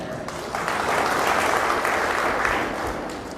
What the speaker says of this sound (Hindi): उदाहरण देने के बाद आपकी जो तालियां बजी